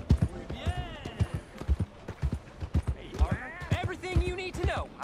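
Horse hooves clip-clop in the video game Red Dead Redemption 2, a rhythmic series of close, distinct thuds at a walking pace, with someone talking over them and snatches of other voices.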